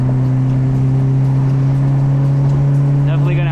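A Mitsubishi Evo X engine drones loudly and steadily under hard acceleration, heard from inside the car, with the pitch starting to climb near the end.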